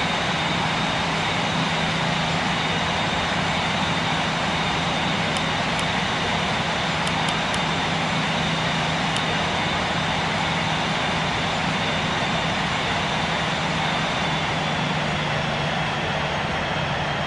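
Airbus A350-1000 jet engines landing at Heathrow on runway 09 left, a steady, loud, broadband roar that holds continuously without a break and with no voices over it.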